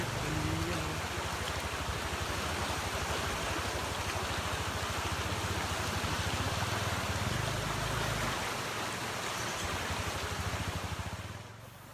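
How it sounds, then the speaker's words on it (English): Swollen river water rushes steadily during a raft crossing in Vietnam, a loud, continuous broadband roar that stays level for most of the stretch before easing off at the end, with no voices over it. "Crossing the bloody river."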